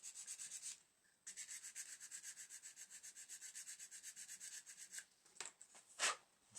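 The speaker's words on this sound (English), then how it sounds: "just a quick file down with a sanding stick." Scale model U-boat part filed down with a sanding stick: rapid, regular back-and-forth rasping strokes, close and fairly quiet, continuing for several seconds before a few slower, separate scrapes.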